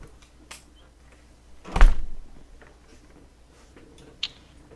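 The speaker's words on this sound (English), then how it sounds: "heard a door shut" A door shuts once with a single muffled thump midway through an otherwise quiet room, followed later by a faint small click.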